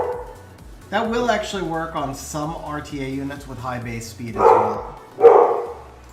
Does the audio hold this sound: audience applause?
no